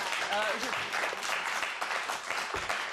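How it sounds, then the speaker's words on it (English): A television studio audience applauds a caller on a talk show, a dense, continuous burst of clapping with a voice speaking over the start, fairly close and full. "Karina, a round of applause for Karina there."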